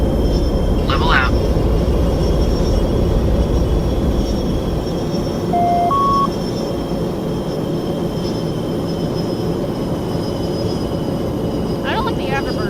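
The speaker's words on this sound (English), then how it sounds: "I don't like the afterburner sounds." A steady jet roar of afterburners fills a 3D flight combat video game, constant and loud, with a few short electronic beeps in the middle.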